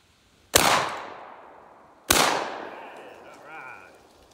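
Two loud shotgun blasts at clay targets about a second and a half apart, each cracking sharply and then echoing away outdoors, with faint activity after.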